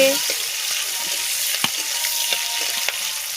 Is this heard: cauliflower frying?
yes